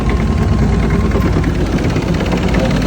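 A boat's loud, steady car engine rumbles continuously at close range near Phi Phi Island, Thailand, a low chugging drone that barely varies.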